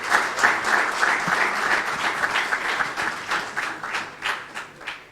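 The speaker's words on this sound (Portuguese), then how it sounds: "Pedi uma salva de palmas." Audience at a Guarda lunch debate applauding, a dense, steady burst of many hands clapping that carries on for about five seconds before starting to thin out.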